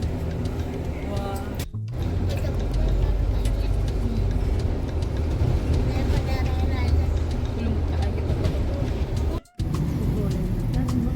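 Steady rumble of a London bus moving through city traffic, with engine drone and road noise continuing throughout, broken by a couple of brief cuts, and voices murmuring faintly beneath.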